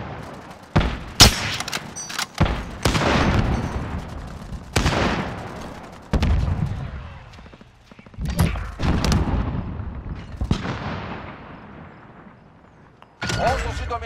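Call of Duty multiplayer gunfire, with sharp bursts of automatic fire and loud booming shots that ring out and decay between volleys, close and intense, with voices talking in places.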